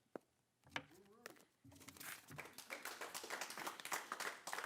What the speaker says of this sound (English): No clapping.